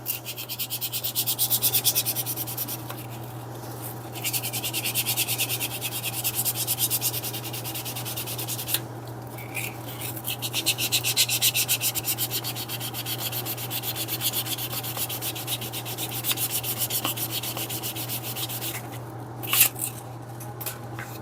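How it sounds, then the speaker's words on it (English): Leather edges being sanded with 400 grit abrasive, a steady close rubbing and scraping that runs continuously, with a constant low hum in the background and no speech. "Come back over to the 400 grit, hit that one more time."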